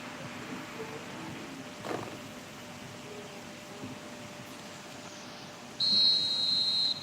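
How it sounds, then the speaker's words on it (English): A referee's whistle in the eFootball mobile football video game, one sharp, shrill blast near the end over a faint steady background hiss. "And the whistle's gone, presumably for offside."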